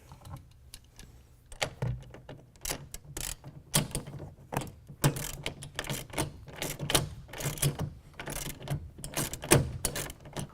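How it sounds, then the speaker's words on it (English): Ratchet or 9/16 wrench tightening the head rail clamp of a Gator SR2 roll-up tonneau cover on a 2009+ Ram 1500, giving a run of quick close mechanical clicks and ticks in uneven bursts, alone. "we can go ahead and tighten that down with a 9/16 wrench or ratchet"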